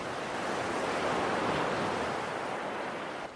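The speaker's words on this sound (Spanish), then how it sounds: "escuchaba el sonido de las olas rompiendo en la orilla" Ocean waves break and wash onto the shore at night, a continuous broad hiss and roar that swells gently and then eases, fairly soft and steady, with no voices and a brief sharp click at the very end.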